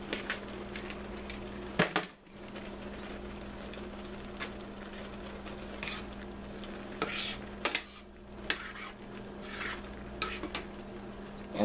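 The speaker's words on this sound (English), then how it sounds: "Alright, I'm going to add in my pasta." Pasta stirred into creamed spinach in a pot, with clinks and scrapes of a utensil against cookware and a faint sizzle running steadily under the stirring, close by and moderately quiet.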